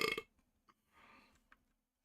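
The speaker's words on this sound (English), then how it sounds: "That's the burp of submission" A single short, loud burp right at the start, followed by faint breathy noises and small sounds in a quiet room.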